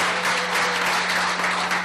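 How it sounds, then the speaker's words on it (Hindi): An audience at a company meeting breaks into applause, a continuous wash of many hands clapping at once, loud and even for its short length, with a steady low hum underneath. "अरे एक बार जोरदार तालियां हो जाए इसके लिए।"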